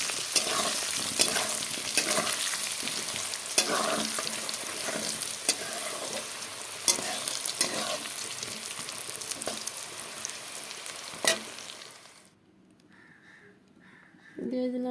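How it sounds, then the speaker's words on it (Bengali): Potatoes with turmeric fry in hot oil in a pan, a loud continuous sizzle with stirring scrapes that cuts out abruptly near the end, leaving quieter room sound. "একটু হলুদ দিয়ে দিলাম আলুগুলোকে লাল করে ভেজে নেব এখন"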